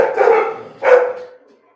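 Dogs barking outside a home garage, two loud, close, drawn-out barks roughly a second apart, the second trailing off into silence.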